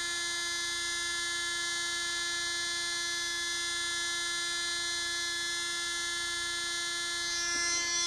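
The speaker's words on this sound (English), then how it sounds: "It's a little like a Dremel, just smaller." A small handheld rotary tool, smaller than a Dremel and used for gold inlay work, runs as a steady, high-pitched electric whine with a constant tone and no pauses, close and loud.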